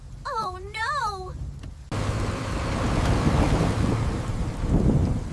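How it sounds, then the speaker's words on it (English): Strong storm wind roars and rushes in an animated short, opening with a brief high whistling swoop before a loud, broad gusting blast that swells and surges continuously to the end. "The wind was getting stronger, and danger was near."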